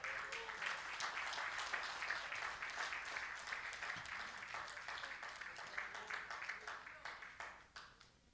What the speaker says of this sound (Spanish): Denle un aplauso al Señor en este momento.